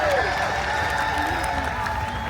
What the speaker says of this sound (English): huge crowd out here